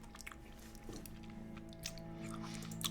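Trader Joe's sour candy belts are chewed close up, with soft, sticky munching and small squishy bites heard faintly over a steady low background hum, and no talking.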